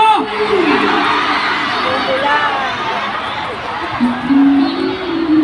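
A large live-event crowd cheers and shouts continuously, a loud dense roar of screaming voices with whoops and a few louder yells standing out near the end.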